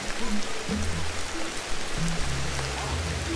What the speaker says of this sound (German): weil es regnet ja jetzt die ganze Zeit.